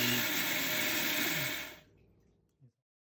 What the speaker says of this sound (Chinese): 接下来把糯米打碎，不要打成细末